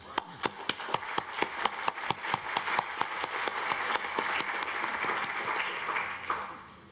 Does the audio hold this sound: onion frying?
no